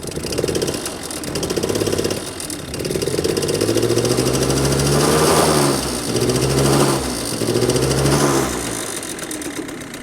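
A cold 1993 Yamaha BW's 3VL scooter idles with its two-stroke engine heard close at the exhaust, a buzzy rattling drone that swells and dips in several uneven pulses.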